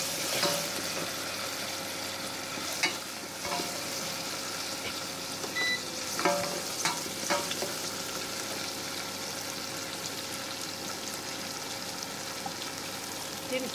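Dal tadka tempering in hot oil sizzles and fries steadily with ginger garlic paste and chopped ingredients, a continuous crackling hiss with occasional sharper pops and stirring clinks, fairly close.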